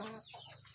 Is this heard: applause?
no